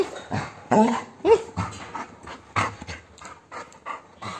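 Labrador dog panting in quick bursts with several high whimpers and yips, close and fairly loud during an excited greeting.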